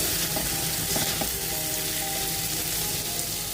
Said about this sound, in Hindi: प्याज को हमने हल्का सा फ्राई किया है।